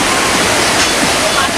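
Steady roar of a waterfall in Lambai district, a loud, continuous broadband rush of falling water close by with no breaks.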